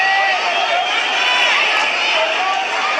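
A packed capacity crowd roaring and cheering at Mayor Radhakrishnan Stadium in Chennai during an India vs Japan hockey semi-final, a steady dense wash of loud cheering throughout.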